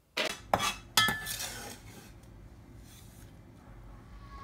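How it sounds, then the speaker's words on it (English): Spring onion pushed into a bowl of ginger with a utensil: three sharp clinks of metal on the bowl in the first second, then only a faint, quiet tapping. "Now we're going to put the spring onion into the bowl with the ginger."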